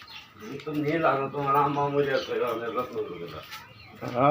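Big Bombay-breed pigeons at a pigeon farm coo in soft, repeated throaty phrases, close and fairly loud, with some voice-like murmuring mixed in.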